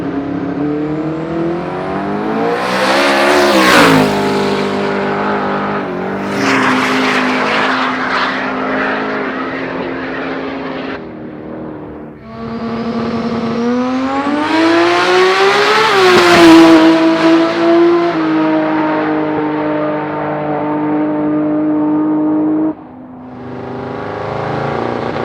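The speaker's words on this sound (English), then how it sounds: "This is a small block Ford twin turbo." A twin-turbo small block Ford drag car roars loudly down the quarter mile at a street racing event, its engine note climbing through repeated rising revs with brief shifts, steady and close with no talk.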